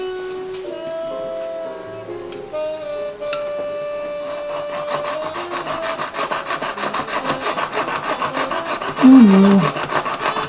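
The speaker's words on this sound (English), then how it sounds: "we'll come back to the jeweler's saw" A jeweler's saw cuts through Kato model train rail in quick, even rasping strokes, close and steady, with tonal background music and a brief spoken phrase at the start.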